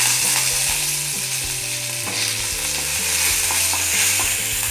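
Mustard seeds, urad dal and chana dal fry in sesame oil in a pan, a loud, close, steady sizzle with constant stirring scrapes and no talk.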